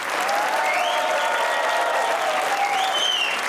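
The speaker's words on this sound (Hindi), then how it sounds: "पाकिस्तान, तो बजाइए तालियां।" Studio audience at a Pakistani comedy talk show bursts into sustained, steady applause, a dense wash of clapping hands that holds evenly throughout with a faint cheer or two rising over it.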